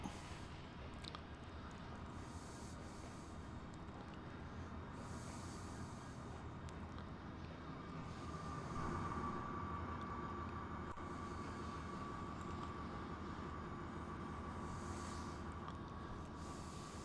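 Train rolling into a station in the Trainz simulator, a faint steady low rumble of wheels and engine with a thin whine rising midway, quiet and continuous.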